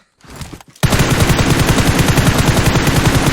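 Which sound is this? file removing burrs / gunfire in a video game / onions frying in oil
gunfire in a video game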